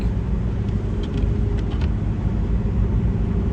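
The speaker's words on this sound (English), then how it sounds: "My car is kind of noisy though." Engine and road rumble from inside a moving car, a loud, constant low drone with a few faint higher ticks and no voices.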